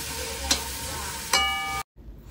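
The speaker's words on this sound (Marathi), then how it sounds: "कांद्याची पात, शिमला मिरची, लसूण आणि कांदा, ते मिक्स करून घेतोय आपण व्यवस्थित" Mixed vegetables with spring onion, capsicum, garlic and onion being stir-fried for paneer chilli, a soft steady sizzle broken by two sharp spatula scrapes against the pan before cutting off.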